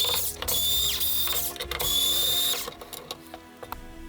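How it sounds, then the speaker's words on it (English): Screws being undone from the top of an LED grow light fixture that holds a target pod, with a whirring power driver in two bursts of roughly a second each, then lighter handling clicks as the sound dies down. "Unscrew the 4 screws on the top of the fixture holding the target pod in place."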